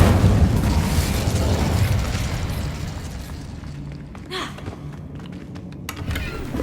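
Spell blasts from Hogwarts Legacy, with Incendio and Confringo fire spells cast in a video game, give a loud, dense rumbling roar that fades gradually, broken by a few sharp bursts and pops later on.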